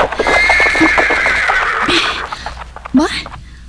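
A horse whinnies loudly and at length, closely followed by a second neigh near the end, with a voice speaking over part of it.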